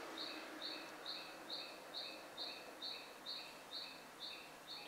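An oriental magpie robin repeats a shrill, evenly spaced two-tone call that resembles a car alarm, about a dozen regular pulses heard faintly from a distance over a quiet background.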